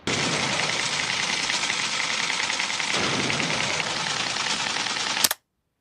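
A mechanical typewriter typing text in the film All the President's Men, heard as a dense, continuous rapid clatter of keys for about five seconds, loud and close, ending abruptly.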